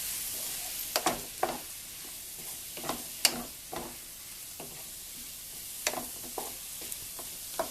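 Vegetables stir-frying in a pan with snap peas and asparagus, a quiet steady sizzle broken by scattered crackles and pops, with no voices.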